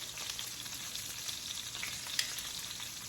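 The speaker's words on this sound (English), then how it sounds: "So you sear it, you sear the other side, you get all 4 corners, all 4 sides" Meat sears in a cast iron pan with a steady, close sizzle that holds even throughout, broken by one brief sharp crackle, no voices.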